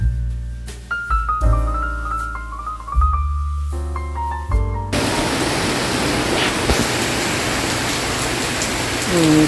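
Music plays briefly, then cuts to heavy tropical rain pouring down in Belize, a steady, dense roar that continues to the end.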